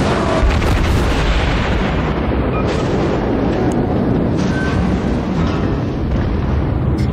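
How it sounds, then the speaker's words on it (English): Naval guns fire in the World of Warships video game during a battle involving a Saint Louis class cruiser, giving loud, continuous booming rumbles and blasts that overlap one another throughout. "it's always a bit disturbing when shots actually go over you."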